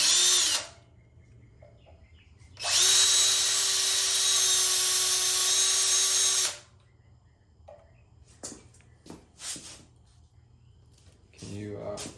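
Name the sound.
drilling a hole for chopper replica gas tank mount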